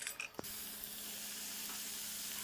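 Shankarpali frying in hot oil until golden brown, a steady, soft, even sizzle held throughout after a brief clatter at the start, fairly quiet and with no voices.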